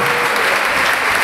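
Loud, dense clapping from an audience at a Galician jota dance performance, a continuous burst of applause with no pauses.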